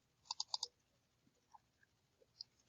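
A computer mouse gives a quick burst of four crisp clicks close up, followed by a few scattered, fainter clicks in otherwise quiet surroundings.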